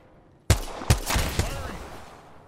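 Gunfire in Apex Legends: a sharp close shot followed by a few more bursts over about a second, loud and distinct against a quiet background, then a fading tail.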